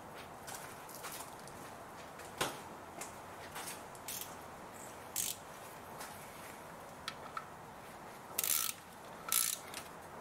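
A ratchet tightens the oil sump plug bolt on a 22-year-old Mini R50, giving sparse, faint clicking bursts with short pauses between strokes against a quiet garage background.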